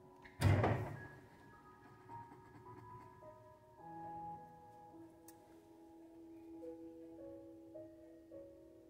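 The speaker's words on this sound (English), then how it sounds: "I'm gonna open the door." The door of a corner curio cabinet opens with a single close thump and rattle, followed by quiet room tone with a faint tone in the background and no speech.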